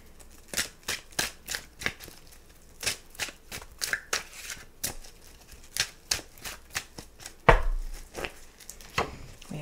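Tarot cards are shuffled by hand in a quiet room, making a rapid series of crisp, papery slaps and riffles in uneven bursts, close to the microphone with no voices.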